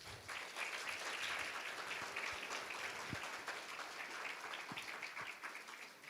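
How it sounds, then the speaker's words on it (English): A conference audience gives a round of applause after a magic trick at a Toastmasters district event, steady moderate clapping heard at some distance, fairly quiet, with a few sharper individual claps standing out. "Ladies and gentlemen, another round of applause for Steve."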